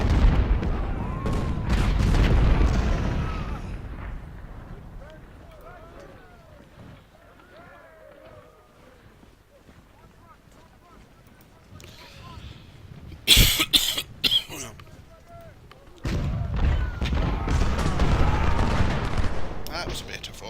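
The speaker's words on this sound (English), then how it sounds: "That was a better volley." Musket volley fire in the video game Ultimate General Civil War: a sharp cluster of gunshots crackles mid-clip over rumbling battle ambience, with more distant firing around it.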